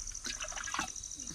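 Water poured or trickling into a small container used to measure batches for mixing a chilli crop treatment, a soft steady flow heard close and quiet with faint background hiss.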